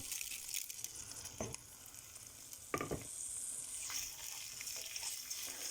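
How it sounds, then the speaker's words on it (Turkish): Rice is toasted in melted fat for pilaf, giving a soft, steady frying crackle broken by two sharper spoon-stirring scrapes and a rising hiss, at fairly low level with no talking. "Bu şekilde pirinci biraz kavurmaya başlıyorum. Biraz çevirmeye başlıyorum."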